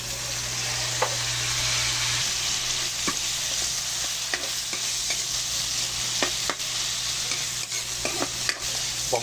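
Garlic and onion sauté in a hot pan, a steady broadband sizzle running throughout with occasional sharp stirring clicks and scrapes, close and fairly loud with no talking.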